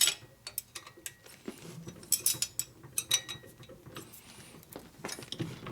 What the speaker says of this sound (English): Now when this wrench starts to flex a little bit, you're getting about the right torque.